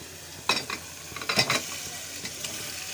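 Toll fish dropped into sizzling fried masala in a pan, a few sharp splashing bursts over a steady near frying hiss that settles back to a soft sizzle.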